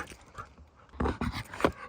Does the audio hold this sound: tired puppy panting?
yes